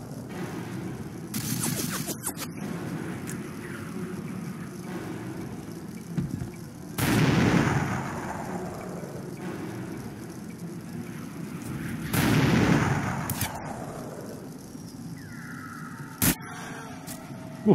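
Gunfire in the video game 007 Everything or Nothing: a few loud broadband blasts and bursts spaced several seconds apart over a steady game ambience, with no talking.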